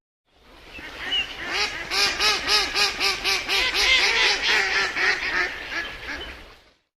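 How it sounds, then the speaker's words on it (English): A group of mallard ducks quacks in a dense, continuous chorus of overlapping nasal calls, loud and close with a rough rhythmic pulse throughout. "Mallard duck."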